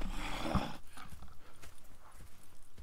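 Video game horses on a western-style trail: hooves clip-clop in a steady rhythmic gait after a brief snort at the start, moderately close with no talking.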